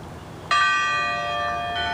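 Church bell striking for eleven o'clock, a single loud ringing strike that sustains and decays, followed by the start of the next stroke, with no talk over it.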